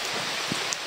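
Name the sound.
rain falling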